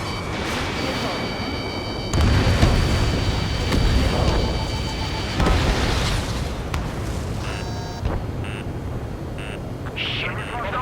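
Missile explosions in the Ace Combat 7 video game burst out as heavy booms that swell and fade, layered with beeping cockpit warning tones and voices.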